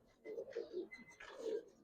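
A pair of all-red makra pigeons coo softly at a seller's, a quiet run of low rolling throaty notes in two short bursts with a brief pause between.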